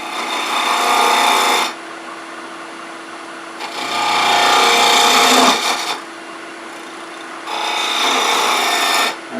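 Three loud, close bursts of a wooden wand being cut on a woodturning lathe as a deep cove is shaped with a swept-back wing gouge, each scraping pass lasting a couple of seconds, with short quiet gaps between them.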